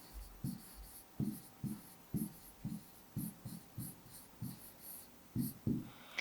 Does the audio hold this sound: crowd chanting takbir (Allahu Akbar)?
no